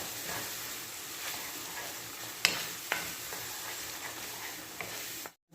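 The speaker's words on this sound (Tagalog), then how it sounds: "Haluin natin mga ka-recipe." A utensil stirs a simmering mixture seasoned with white sugar and ground pepper, making a continuous soft sizzle with a few sharp taps against the pan.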